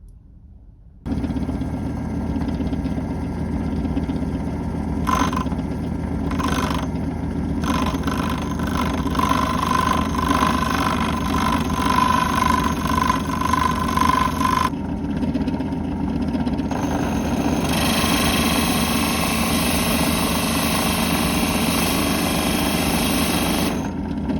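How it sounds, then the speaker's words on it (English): A hole saw drilling into the case of a Jaguar XJS ABS module, a steady loud whirring grind that runs continuously with brief pauses and shifts in pitch, close by and without talk. "we will be drilling very carefully with our hole saw into the case right above it"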